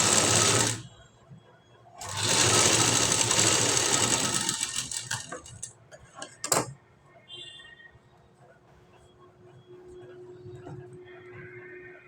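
A sewing machine stitches dotted stitches into cloth in two loud bursts of rapid whirring, then quieter handling sounds follow and a voice speaks near the end.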